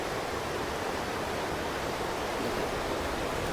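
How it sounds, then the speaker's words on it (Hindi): A mountain river flows near Manali on a trekking route, a steady, dense rush of water filling the air evenly and unbroken from start to finish, with no voices over it. "देखिए ये नदी कितने खूबसूरत अंदाज में बहते हुए आ रही है"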